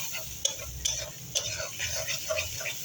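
Ground spices sizzle and get stirred in a frying pan for Bengali egg curry, a steady crackling fry with a few sharp scrapes and clinks of the spatula against the pan, close and continuous.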